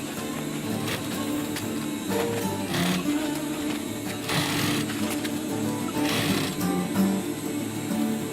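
A sewing machine stitching fabric for a roll-up pouch, a steady, moderately loud mechanical whir with rhythmic clatter that runs throughout.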